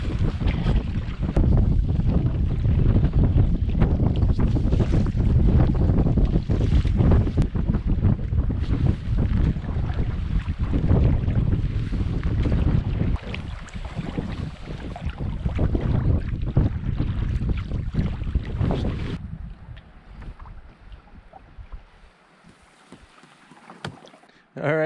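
Strong wind gusts roar across an open lake on a solo canoe trip in the boreal Wabakimi wilderness, loud buffeting noise filling most of the stretch before easing near the end.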